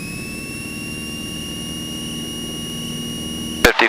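Cessna 172 single-engine plane at full throttle, a steady loud drone with a high whining tone, heard from inside the cabin, ending in a brief burst of crackling noise.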